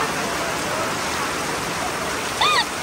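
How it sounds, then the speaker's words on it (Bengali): Heavy rain falls steadily during an outdoor picnic beside water, a dense, even hiss that fills the whole moment, with a brief faint tonal sound near the end. "বৃষ্টি তো আর থামছে না।"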